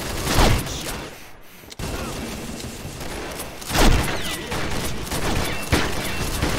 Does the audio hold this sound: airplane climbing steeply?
no